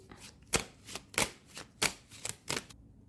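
Playing cards being shuffled in a handful of quick riffling bursts, evenly spaced and close by, with no talking.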